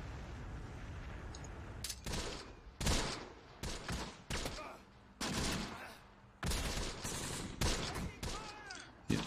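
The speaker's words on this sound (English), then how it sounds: "This firing is actually working fairly well." Repeated bursts of small-arms and machine-gun fire in the war strategy game Close Combat: The Bloody First, loud sharp volleys with brief gaps between them.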